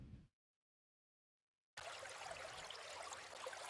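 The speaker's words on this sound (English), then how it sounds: "So maybe I start with some water sounds." Water sound effect from a meditation music template: a steady, soft trickling stream that starts after a short silence and continues evenly.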